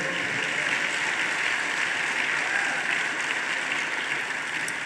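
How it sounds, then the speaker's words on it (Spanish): A church congregation applauds in a steady, dense wash of clapping that holds at an even level throughout, filling the room without breaks or talking. "Alguien que pueda aplaudirle a su grandeza de Él."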